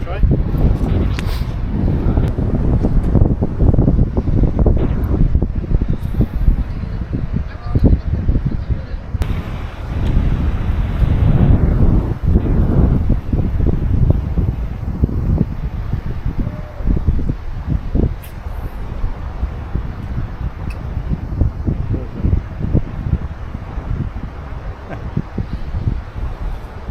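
Gusty outdoor wind buffets the microphone in a steady broadband roar across a fishing, hiking and outdoor cooking spot, with people talking intermittently underneath.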